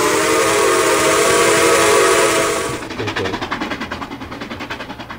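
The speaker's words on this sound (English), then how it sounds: "whenever you move up closely to a locomotive, like the pitch just changes" A locomotive in a railroad video game roars loudly and steadily up close, then its tone shifts and drops into a quieter, rhythmic chuffing pulse for the last half of the clip.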